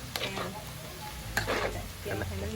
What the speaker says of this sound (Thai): เจียวกระเทียมก่อน